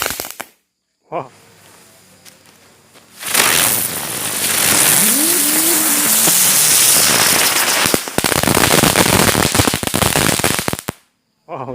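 Lotus firecrackers (mercon teratai) go off outdoors at night with a loud, sustained hissing, crackling rush and a brief rising whine, ending in sharp popping bursts before cutting to quiet.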